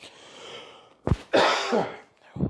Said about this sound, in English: I'm sorry for coughing again